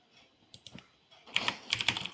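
Quick, close typing on a computer keyboard while entering a Python command, a bursty run of crisp key clicks that grows denser and louder toward the end.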